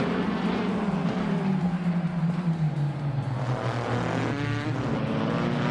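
A 2016 Ford GT-LM GTE race car in a racing video game pulls away from the start, its engine a loud, steady droning roar that climbs in pitch through the gears, with another engine note layered behind it.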